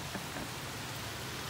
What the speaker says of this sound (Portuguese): Muita chuva.